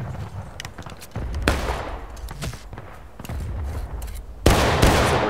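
Musket gunfire in War of Rights during a 110-player community line battle, with scattered near and distant shots, ragged volleys, and a loud close burst of fire near the end, no talk.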